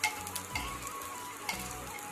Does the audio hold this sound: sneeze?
no